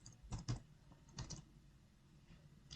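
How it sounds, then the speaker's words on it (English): Short clusters of keystrokes on a computer keyboard as a name is typed into web authoring software, with two quick bursts of taps separated by silence and a louder click at the very end. "Select that and then type my name."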